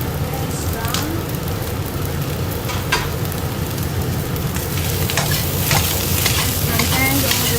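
Rice with vegetables and potato stir-fries in a pan, giving a dense, steady sizzle broken by repeated scraping stirs, close and loud.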